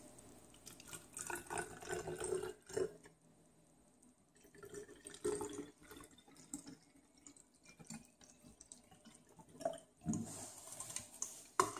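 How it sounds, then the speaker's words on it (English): Water poured into an empty plastic test bottle during a water-testing kit procedure, heard as several separate splashing, trickling bursts with brief quiet gaps between them. "add in 100 milliliters of the water you wish to test"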